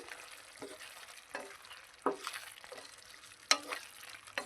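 A spoon scrapes and stirs brinjal and chana dal curry in a hot pan, several soft separate strokes with light clinks and a faint sizzle underneath, close and quiet.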